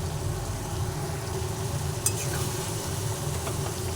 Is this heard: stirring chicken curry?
yes